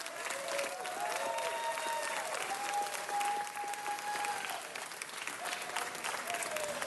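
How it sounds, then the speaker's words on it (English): Steady applause from an audience at a city council meeting, moderately distant and evenly sustained throughout, with a few whoops rising above the clapping. "big round of applause"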